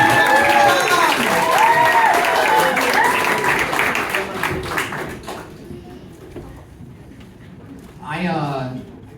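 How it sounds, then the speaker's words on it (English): Comedy club audience applause and clapping, a full crowd clapping loudly under an announcer's voice, then dying away into near silence before a brief burst of speech. "start clapping. Clap, clap, clap."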